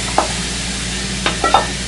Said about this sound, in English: I have my onions, carrots, and peppers here, and I'm going to just saute that in there also